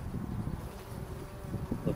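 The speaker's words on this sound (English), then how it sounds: "Bees are coming in and out of the box here." Honeybees fly in and out of a trapout box screened over a pecan tree on a golf course, making a steady, close buzzing hum that holds for the whole stretch with small swells.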